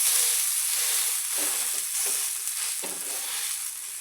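Thalipeeth flatbread steaming and frying in oil in a pan, giving a steady, loud, close sizzle with a few soft scraping stirs, no talking.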